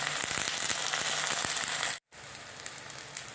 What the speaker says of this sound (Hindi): इसको मैं फ्राई करती हूँ। इसी तरह से डाल देना है, फिर फ्राई कर लेना है।